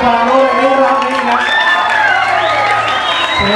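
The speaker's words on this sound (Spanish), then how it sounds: "Que se escuche el aplauso para Nora Guerra" An audience at a beauty pageant cheers and claps loudly, with whoops and shouts over steady applause, while music with sliding melodic tones plays through the crowd noise.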